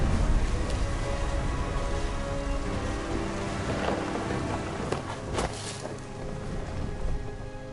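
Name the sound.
rain and thunder in a narrative video game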